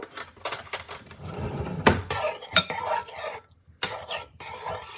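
A spoon stirs sourdough starter in a container, giving a few scraping, clinking knocks against its sides, close and fairly quiet, with short pauses between the strokes.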